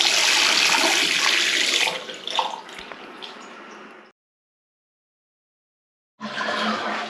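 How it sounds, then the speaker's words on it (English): Water rushes loudly as a toilet cistern refills after a flush, with a newly fitted valve, then thins to a trickle and cuts off before the flow resumes strongly. "Filled it up, flushed it"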